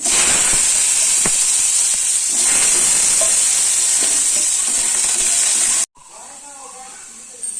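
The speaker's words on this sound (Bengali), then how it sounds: "পাঁচফোড়ন, তেজপাতা দিয়ে আলুগুলো ভেজে নেবো আমি।" Potatoes frying in hot oil with panch phoron and bay leaf, a loud close continuous sizzle and hiss with a few stirring knocks, cutting to a much quieter sputter for the last seconds.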